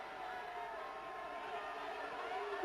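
A stadium crowd at a football match between RC Lens and FC Den Haag gives a faint, distant, steady roar of applause beneath a commentator's voice.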